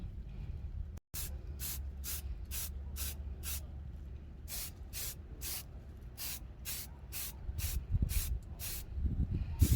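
Short bursts of spray from a can or gun laying coats onto a G-body Cutlass door panel during restoration, about a dozen evenly spaced hisses over a steady low background hum.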